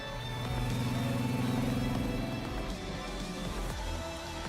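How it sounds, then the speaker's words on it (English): Motorcycle engine in the video game NIKKE revving loudly with a steady droning tone, then roaring off as the pitch shifts, set against a dense game soundtrack. "Sugar revs the engine and zooms off on her bike towards the factory."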